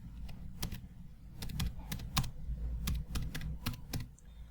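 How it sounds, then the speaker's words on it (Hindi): A folder name is typed on a computer keyboard in Google Drive, a quick irregular run of crisp key clacks with short pauses, close and clear with no talking. "मैं यहाँ फोल्डर का नाम एंटर कर देता हूँ।"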